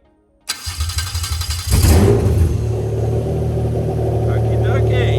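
Cranking then catching, a JZ engine on an ECUMaster Black modular ECU after a wiring harness alteration fires up loudly and settles into a smooth, steady idle, heard up close.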